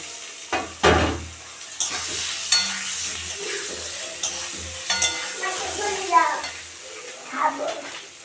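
Potatoes and eggs frying in a pan on a home stove, with a soft continuous sizzle and several sharper stirring scrapes and clatters spread across the moment, close and moderately loud.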